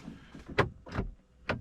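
A Mercedes door (W201, W126 or W124 type) locking slowly through a leaking vacuum central locking system, giving three faint, separate clicks and thunks spread over about a second and a half, with no talk.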